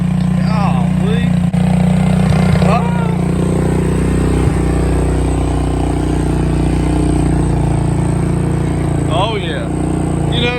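A Suzuki King Quad 300 four-wheeler engine runs in low gear with a steady, close, mid-pitched drone, while a person speaks briefly over it now and then.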